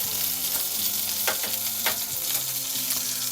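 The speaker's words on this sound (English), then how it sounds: "while our fish fingers quietly sizzle away" Fish fingers sizzle steadily in a frying pan in a small home kitchen, a close, constant hiss and crackle with a few louder pops and a low hum underneath.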